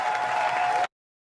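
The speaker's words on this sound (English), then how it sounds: "We'll get our applause." An audience at a lunchtime celebration for primary election winners claps in a steady wash of applause for under a second before it cuts off abruptly.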